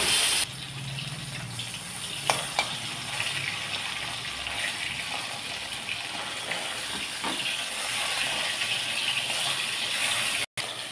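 Fish rubbed with salt and turmeric fries in mustard oil in a wok, giving a steady, loud, close sizzling hiss that runs without a break and drops out for an instant near the end.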